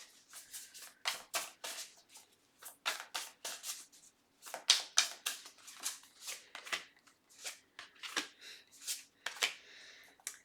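Tarot cards being shuffled and drawn, a quick run of crisp papery riffles and snaps repeating in bursts over about ten seconds, close and fairly quiet, with no voice over them.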